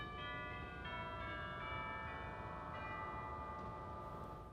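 Sustained bell-like chime tones from the chimes stop of the Ohio Theatre's Mighty Morton theatre organ ring out with shimmering overtones, several strikes layering into a steady, resonant tone with no voices.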